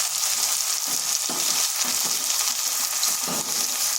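Chopped tomatoes frying in a pan for aloo fulkopi make a loud, continuous sizzle, with faint low scrapes of stirring underneath.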